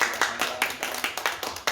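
A church congregation claps in praise during a worship service, a short burst of scattered, uneven hand claps close by, with faint background murmur.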